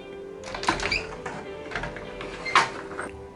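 Closet doors in a dorm room are opened, giving a few soft thunks and a sliding rattle, with a louder knock near the end; quiet room noise and no talk.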